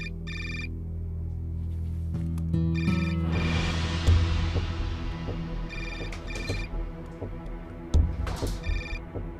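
A phone rings in repeated electronic bursts of ringtone with pauses between them, fairly close against a low background hum, while rustling and movement sounds occur nearby.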